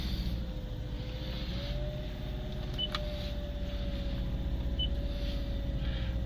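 A Gen 5 Subaru Liberty 2.5 wagon with the FB25 engine idles steadily with a few belts rubbing at the front, a constant low hum carrying a faint, wavering whine, with no one talking.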